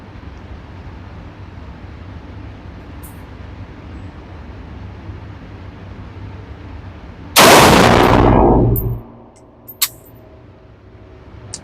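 A GQ Armory Paladin 6mm ARC carbon bolt-action rifle fires a single loud shot outdoors, a sudden blast with a long echoing tail over steady background rumble, followed by a brief metallic click.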